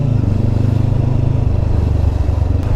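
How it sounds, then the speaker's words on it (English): A Honda CBR500R 500cc motorcycle exhaust rumbles loud and close, a deep, steady, throbbing engine note that holds without pause for a few seconds. "500cc motorcycle, this exhaust is awesome"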